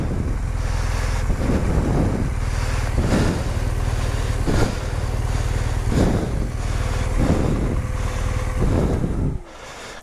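A BMW R1200 GS Adventure motorcycle engine runs with a steady low rumble under heavy wind buffeting on the microphone, then drops away sharply near the end as the bike pulls over.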